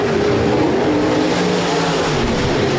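B-Modified race cars roar around Rapid Speedway, a dense, continuous engine drone that stays loud and steady throughout.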